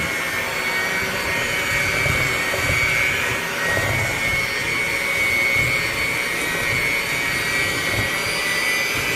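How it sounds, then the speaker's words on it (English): An electric mixer beats packed sugar and butter for gingerbread dough with a loud, continuous whirring motor drone and a steady high whine, running without a break. "we're going to take our electric mixer"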